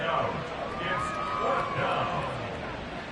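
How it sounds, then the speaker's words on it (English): A video game stadium crowd in an American football game cheers and roars in the background while a commentator talks over it. "How about some applause for the defense there?"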